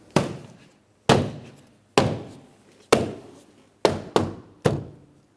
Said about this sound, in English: I'm going to tap it in all the way around the door panel